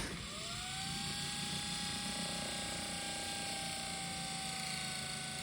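A rebuilt starter motor on a 1934 Plymouth coupe spins up with a rising whir, then holds a steady, loud mechanical whine with a rough, grinding edge throughout.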